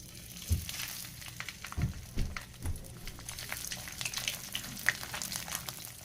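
Dried turay fish frying in hot oil, giving a steady crackling sizzle with scattered sharper pops and spits throughout, close and fairly quiet, with no talking.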